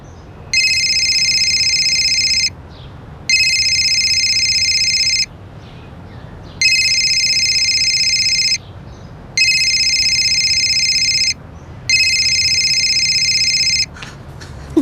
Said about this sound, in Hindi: मम्मी की फोन की रिंग तो अंदर से आ रही है।